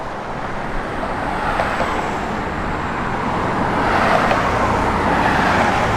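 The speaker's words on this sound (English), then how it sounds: "It's got a good sounding Flowmaster dual exhaust system on it with those chrome tips." A 1970 Plymouth Road Runner with a Flowmaster dual exhaust and chrome tips gives off a steady, broad motor rumble that swells slightly toward the end, with no clear revving.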